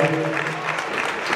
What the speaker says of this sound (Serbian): jedan aplauz moj